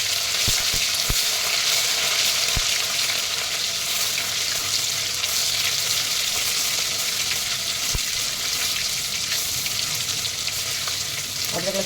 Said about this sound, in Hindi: ये मैं अदरक लहसुन डाल रही हूँ।